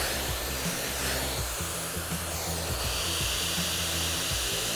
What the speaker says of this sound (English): And continuing to have that blow dryer follow my brush.